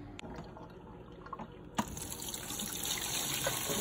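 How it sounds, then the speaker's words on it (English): Cooked pasta is drained, with water pouring and splashing into a sink, starting as a faint trickle and then becoming a louder, steady rushing gush close by. "We're going to drain the pasta now."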